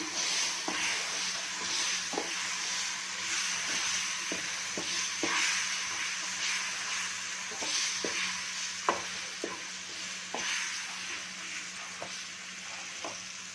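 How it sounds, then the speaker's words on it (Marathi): Mango pulp being stirred into a semolina (rava) modak mixture in a pan, with soft repeated scraping strokes and a light continuous hiss, fairly quiet and close, no talk. "हे छान मिक्स करून घ्यायचे आहे।"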